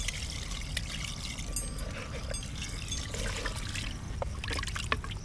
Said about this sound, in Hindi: अब इसमें डालेंगे पानी।